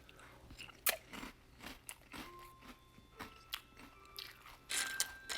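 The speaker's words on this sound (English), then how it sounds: "So let's try our Peeps cereal." Close, crisp crunching and chewing of Peeps cereal in 1% milk, with irregular bites and softer mouth sounds between them in a quiet room.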